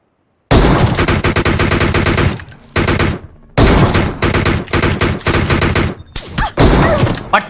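Rapid gunfire bursts from a mobile battle-royale shooter match, loud automatic volleys broken by short pauses, with a few sharper single shots near the end.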